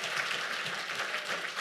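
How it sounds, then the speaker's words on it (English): Audience applause at a business and technology gathering, a steady, fairly faint wash of clapping that holds evenly for the whole stretch. "give yourselves a round of applause"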